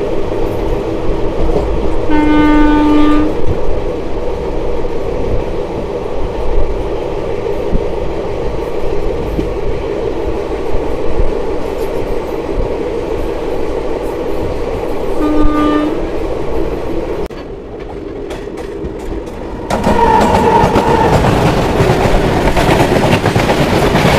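The 12347 Sahid Express on its Howrah to Rampurhat run, arriving at platform 1 of Ahmedpur Junction. Heard from on board: a loud, steady rumble with rail clatter and two short horn blasts.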